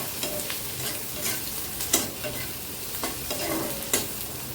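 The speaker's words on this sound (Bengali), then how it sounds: "পেঁয়াজটা লাল লাল করে ভাজি করে নেবো।" Onion fries in mustard oil with a cinnamon stick and a cardamom pod, a soft constant sizzle broken by periodic stirring knocks and scrapes.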